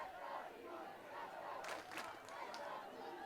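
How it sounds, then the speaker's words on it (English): Football fans in high school stands clap and chant together, a distant crowd roar with rhythmic bursts of claps and yelling that rises and falls. "they're beginning to try to encourage the fans in the stands to clap their hands and yell"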